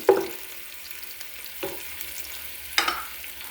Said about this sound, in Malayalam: ഓയിലും ശകല നെയ്യ് ഒഴിച്ച് കൊടുത്തിട്ടുണ്ടായിരുന്നു ഒന്ന് മിക്സ് ആണ്